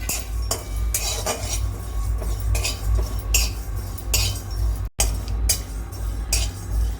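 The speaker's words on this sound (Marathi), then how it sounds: "त्याच्यानंतर हे तीळ टाकते तीळ लवंगा हे पाच मिनटं मी सगळं भाजून घेणार आहे" Sesame seeds and cloves roasting in a pan for Kolhapur-style misal masala, with repeated clinks and scrapes of a utensil against the pan over a steady low hum, moderately close and without talk.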